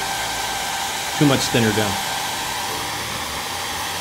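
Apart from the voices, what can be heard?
hair dryer drying wet paint on a model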